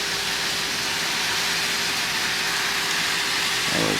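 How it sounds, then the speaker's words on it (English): A small Baltimore model train runs on a Christmas town layout, producing a continuous even mechanical whir with a faint steady hum, growing slightly louder at the very end; no voices. "There goes that little Baltimore train."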